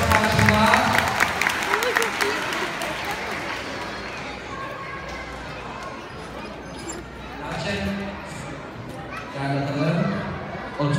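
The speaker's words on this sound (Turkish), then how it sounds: "Hazırsa küçük bir alkış istiyor arkadaşlar." Audience applause for a dog performing tricks, a burst of clapping and chatter at the start that fades to a low murmur and returns briefly near the end.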